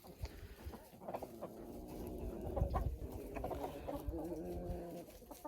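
Chickens and roosters cluck and crow together in a busy, continuous farmyard chorus, fairly close and steady throughout.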